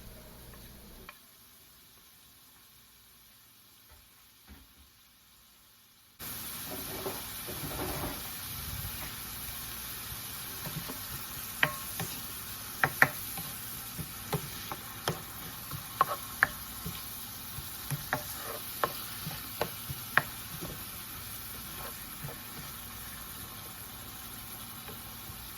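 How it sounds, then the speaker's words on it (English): Chopped onion and green pepper are sautéed in a pan for a seafood gumbo, a soft, steady sizzle that starts abruptly after a quiet stretch, with scattered clicks and taps from stirring throughout. "we're adding in our onion, adding in our green pepper, getting those all sauteed up"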